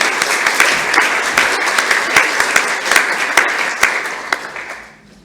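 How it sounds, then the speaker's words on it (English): A presentation audience at a tunnelling society evening claps steadily and warmly for several seconds, a dense run of individual claps that fades out at the end. "I'd like to give Faye a round of applause coming up to speak to us"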